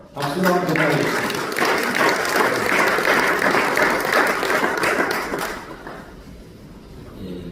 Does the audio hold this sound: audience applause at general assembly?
yes